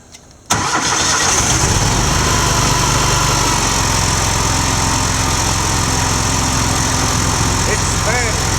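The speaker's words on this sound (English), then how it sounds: "It's a new mower." A new lawn mower, with its hopper overloaded by foot-tall grass, fires up abruptly after a brief quiet moment. Its engine then runs loud and steady close by for the rest of the time.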